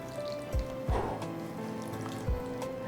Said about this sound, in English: We are going to add this water to the maida.